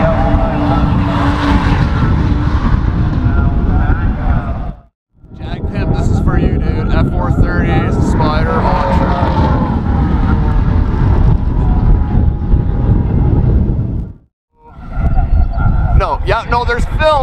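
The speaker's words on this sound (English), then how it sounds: "New NSX, you guys." A new Honda NSX sports car drives past loudly at a car show, its engine roaring in two long bursts separated by short gaps, with a voice briefly heard at the end.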